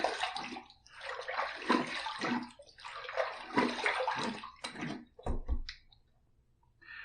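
Water runs and splashes in uneven bursts while a razor is rinsed after a shave, fairly close, then cuts off near the end and leaves a brief quiet.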